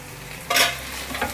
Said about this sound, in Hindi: मैंने आलू को एक बार अच्छे से मिक्स कर दिया है, मतलब पलट दिया है